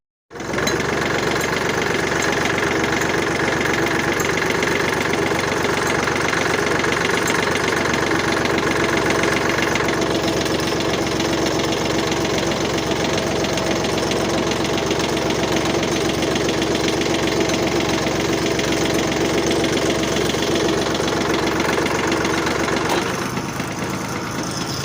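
A small farm tractor idling in a barn while a manure spreader is hooked up, its engine chugging at a steady, close, loud level with a knocking rhythm that runs unbroken for the full duration.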